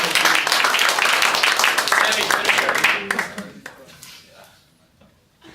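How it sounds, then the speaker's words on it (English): An audience claps energetically for a few seconds, then the applause thins out and dies away into near silence. "An applause for Sammy as he comes up to Sammy"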